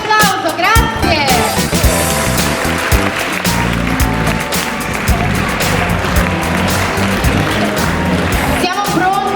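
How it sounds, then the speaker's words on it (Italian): Audience applause for contestants at the Miss Blumare 2018 beauty pageant in Cesuna, Vicenza, a loud steady crowd clapping that fills the whole stretch, with music and voices mixed underneath. "Un bel applauso, grazie!"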